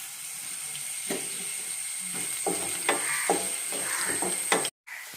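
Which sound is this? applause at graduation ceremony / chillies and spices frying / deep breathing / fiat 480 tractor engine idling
chillies and spices frying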